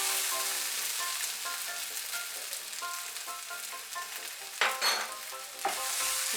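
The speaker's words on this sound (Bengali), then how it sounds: "এখন আঁচটা বাড়িয়ে দিয়ে আলুর খোসাটা আমি ভালো করে ভেজে নেব।" Potato peels frying in a hot pan for a Bengali mashed potato-peel dish, giving a steady close sizzle with scraping stirs throughout and a couple of louder bursts near the end, no talk.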